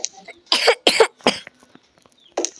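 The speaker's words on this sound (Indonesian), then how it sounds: "Aduh anakku, batuknya." A child coughs in several harsh bursts, a quick cluster of three followed by a pause and one more cough, close and fairly loud with a quiet room between.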